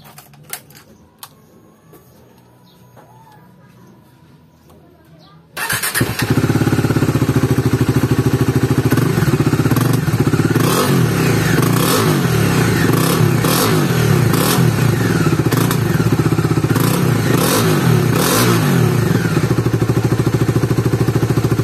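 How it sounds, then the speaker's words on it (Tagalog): A Bajaj Dominar 400 motorcycle fitted with a UG V2 stock pipe exhaust starts after quiet idle noises, then runs loud and close with a throbbing, rapping engine note and repeated revs. "Anong tunog? Sound check. Okay, sound check po tayo."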